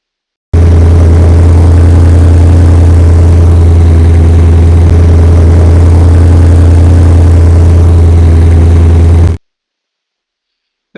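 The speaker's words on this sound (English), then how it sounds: "The Porsche has a great sound idling." A Porsche engine idles steadily and loudly for about nine seconds, a smooth, deep drone with a constant low hum and no revving, then cuts to silence.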